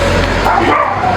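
A dog out on a walk, heeling beside its owner, lets out a short, loud bark-yip right up close.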